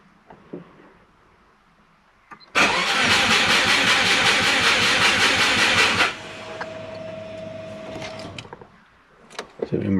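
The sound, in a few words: Subaru engine cranking, trying to start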